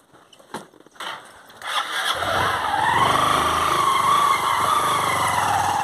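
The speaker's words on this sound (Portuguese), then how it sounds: "Mas Naila também, deixa a moto pegar impulso, Naila." A few knocks and clatters, then a motorcycle engine catches while being push-started and runs with a steady, rough idle.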